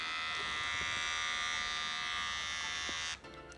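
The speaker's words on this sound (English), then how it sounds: "So I'm going to hold the trimmer in two hands, okay?" An electric beard trimmer switched on and running, a steady close bright buzz held for about three seconds before it cuts off abruptly, leaving quiet room sound.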